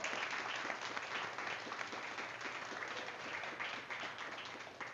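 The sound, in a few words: audience applause at a live podcast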